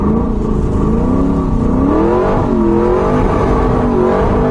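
A 416 cubic-inch LS3 V8 in a WS6 Trans Am drift car revs steadily under light throttle, a loud, continuous engine drone with rising and falling pitch as it transitions through a drift.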